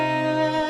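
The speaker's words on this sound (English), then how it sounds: "And there's the violin." A virtual violin in a Christmas music arrangement holds a steady, sustained note with rich harmonics, heard alone and clearly for under a second.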